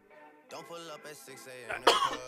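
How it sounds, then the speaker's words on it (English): A person coughs a few times and clears their throat in short, rough bursts, with a voice mixed in. "having problems here coughing"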